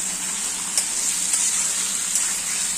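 Chicken pieces with salt, chilli and turmeric fry steadily in a pan, a loud continuous sizzle with faint scraping as they are stirred, no talking.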